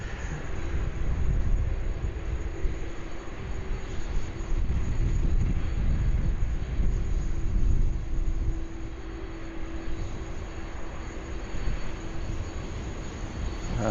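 A Qantas airliner arrives at Sydney Airport, its jet engines a continuous broad roar and whine held steady throughout, moderately loud at a distance with no talk.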